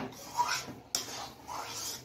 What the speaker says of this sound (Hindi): ये देखिए इसको अच्छे से मिक्स कर लेंगे।